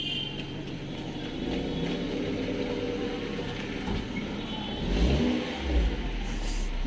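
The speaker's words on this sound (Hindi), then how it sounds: "अब गाड़ी ये चला रहा है और ये निकाल रहा है गाड़ी को।" A car engine revs as it is driven out of a traffic jam in Noida on New Year's, a steady mid-pitched running drone that rises in two louder revving surges near the end amid street noise.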